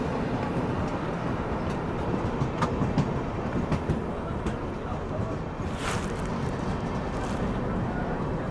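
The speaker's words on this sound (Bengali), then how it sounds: "পাশ থেকে বেরিয়ে যাচ্ছে দুরন্ত এক্সপ্রেস, শিয়ালদা বিকানের দুরন্ত এক্সপ্রেস।" The Sealdah–Bikaner Duronto Express rushes past alongside a halted train just before Dankuni, giving a loud, steady rumble of wheels and carriages with faint rhythmic clatter throughout.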